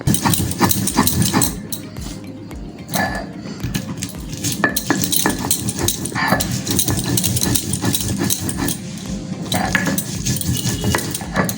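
Poppy seed, ginger, garlic and green chilli being ground together into a paste for a katla fish dish, heard as steady, close, rhythmic scraping and grinding with clattering knocks and no talk.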